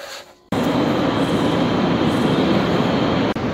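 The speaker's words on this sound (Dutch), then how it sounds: "Kijk, dit vind ik nou heerlijke treinen." Steady rumbling train noise from inside a moving 1980s carriage, a dense continuous roar that starts abruptly and holds evenly throughout.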